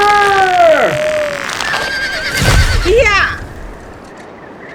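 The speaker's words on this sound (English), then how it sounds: "That gray horse has bolted." A gray horse neighs loudly and close by in a shrill, wavering whinny, then gives a second, shorter call amid faint hoof sounds as it bolts, while a voice shouts over it.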